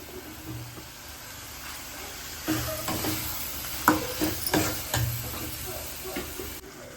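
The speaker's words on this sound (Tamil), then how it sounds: "நல்லா மசாலாவை கிண்டி விட்டுக்குவோம்" A mushroom masala mixture sizzles in a pan while a spoon scrapes and stirs it in several irregular strokes, close and moderately loud.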